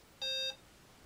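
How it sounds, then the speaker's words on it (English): A single short electronic beep, clear and steady, in an otherwise quiet room, as an Acorn Electron 8-bit home computer powers on. "Hear a beep."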